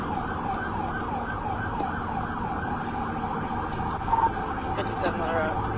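A police siren wails in repeated rising-and-falling sweeps throughout a chase after an ATV rider, steady and fairly loud over road and engine noise.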